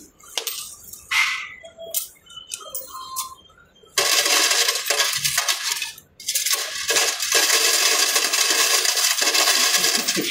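Coins rattle and clatter as a bank coin deposit machine whirs, shifting into a loud continuous churning roar of coins being counted close by.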